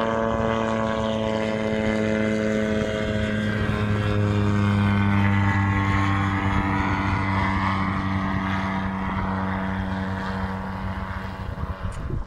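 An outboard-powered boat out on the creeks of Fraser Island drones steadily and loudly, the engine note rising and strengthening as it accelerates to get up on the plane, with wind rush over the hull and no talking.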